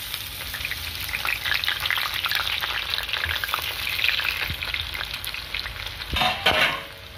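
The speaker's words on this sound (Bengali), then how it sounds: "পেঁয়াজটাকে একটু লাল লাল হয়ে ভাজা হতে দেবো" Finely sliced onions fry in a pan, giving a steady, close, crackling sizzle that runs throughout with brief louder bursts near the end and no talking.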